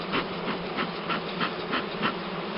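A thick, continuous buzz of a large honeybee swarm of about 4 kilograms fills the air, swelling and dipping in soft regular pulses, fairly close.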